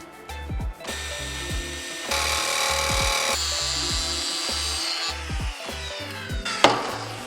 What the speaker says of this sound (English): I just want to drill around those and then cut them out